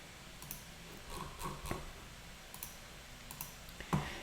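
Sparse computer mouse clicks while building a filter in report software design mode, a handful of quiet, irregular taps over faint room noise.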